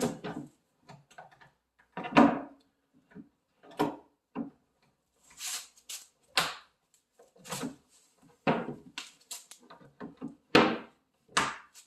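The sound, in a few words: cabinet door hinge clipping on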